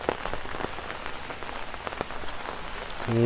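Storm rain falls in a dense, even patter on nearby surfaces, individual drops ticking through the hiss, with a short tonal call at the very end and no talk.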